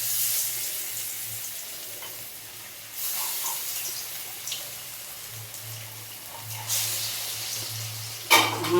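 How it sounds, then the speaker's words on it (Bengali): Fritter batter fries in hot oil in a kadai for a vegetarian dish, a soft steady sizzle with bursts of louder crackle as pieces are added, no talking. "এরকম এবারে আমি বড়ার মতো আকারে ভেজে নেব।"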